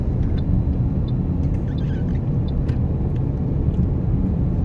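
A car cruising on the Lahore road motorway between Islamabad and Lahore, giving a steady, loud low road rumble and engine drone throughout with no pauses.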